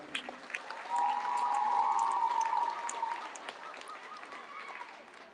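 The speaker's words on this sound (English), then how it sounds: "One more big round of applause for our Eastern Coast volleyball team." A crowd at a school awards ceremony applauds a middle school volleyball team, with steady dense clapping that swells and holds for several seconds before gradually thinning out, moderately near in a large room.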